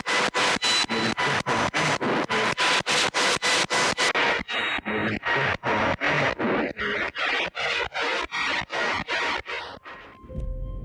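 Harsh white-noise static from a ghost-hunting radio device, chopped into rapid regular bursts as it sweeps, loud and unbroken by any voice.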